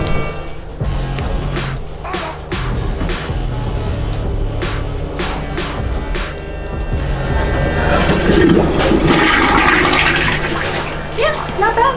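A toilet flushing in the compartment of a first-class overnight train in Vietnam, a long rushing swell of water that peaks near the end, with a low rumble of the moving train underneath.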